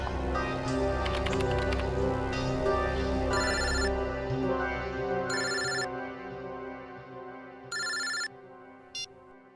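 Telephone ringing in repeated bursts of bright electronic trills over a continuous background music bed, the rings spaced a few seconds apart and ending with a short final chirp.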